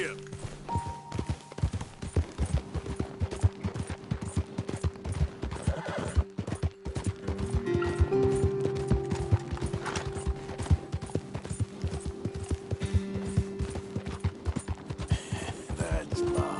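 A horse's hooves clip-clop in a brisk, uneven trotting rhythm close up, joined by a whinny, with a steady tonal hum and music underneath and a voice speaking at times.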